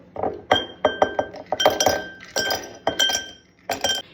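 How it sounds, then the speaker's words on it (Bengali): Ice cubes drop one after another into a highball glass for a Moscow Mule, producing bright clinks and ringing glassy knocks in irregular clusters, close and clear with no talk. "ফার্স্টে আইস নিয়ে নেবো"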